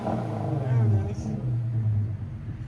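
A 2014 Infiniti Q50 S with a 3.7L V6 and Dynomax Race Bullets exhaust rumbles and revs nearby in a deep, steady drone, with people talking over it.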